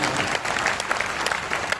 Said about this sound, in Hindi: एक बार सारा सदन एक बार मिलकर तालियां बजाकर के मुझे आदेशित कर दीजिए